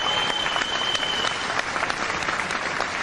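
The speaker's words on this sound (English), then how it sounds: "Give them a round of applause." Audience applauding pumpkin carvers at a live Halloween broadcast in a village cellar setting; steady, dense clapping fills the whole stretch at close, loud level.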